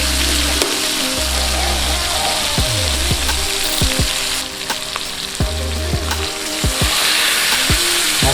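Tilapia fillets sizzle and fry loudly and steadily in coconut oil on a flat tava, with a dense crackle throughout and a few clinks and scrapes of a utensil.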